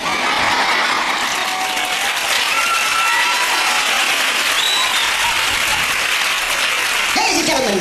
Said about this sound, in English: Ladies and gentlemen, keep that applause going.